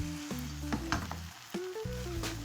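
An oat and egg pancake fries over medium-low heat in an oiled pan, a soft continuous sizzle with a few light scraping and tapping touches, close and alone, while faint music plays.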